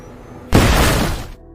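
A single loud, sudden bomb blast in a programmers' room, a close, full-bodied boom that holds for nearly a second before cutting off abruptly.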